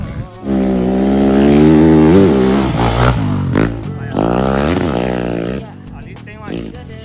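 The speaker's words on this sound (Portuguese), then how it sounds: "Vem acelerando sua Yamaha número 6." Yamaha rally motorcycle, number 6, accelerating hard on a rally course, its engine note climbing loud and close through gear changes, with people talking over it.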